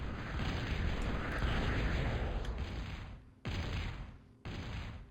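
Artillery shelling in a real-time strategy game: a dense, rumbling barrage of blasts rolls continuously, then breaks into separate booming impacts after brief silent gaps.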